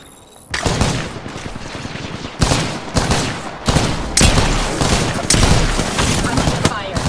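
Apex Legends gunfire comes in heavy, loud bursts of rapid shots, with sharp volleys breaking in every second or so over a steady dense rattle of nearby weapon fire that runs throughout.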